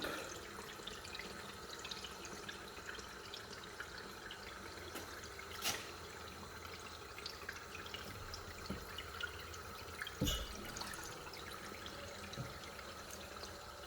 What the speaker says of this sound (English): Charcoal canisters filling up, filling up.